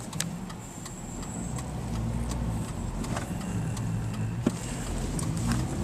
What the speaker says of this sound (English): We're stuck behind trucks.